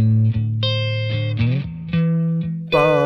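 Electric guitar playing the rhythm part of a song, a few clean, close single notes and short chords in an alternating rhythm.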